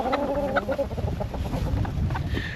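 A flock of chickens in a farm pen clucks continuously at close range, a busy jumble of short calls with some higher, drawn-out squawks near the start.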